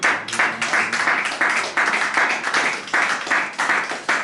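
A church congregation at a Sunday service applauds in steady, fairly loud bursts that come at a regular rhythm, sounding close and filling the room.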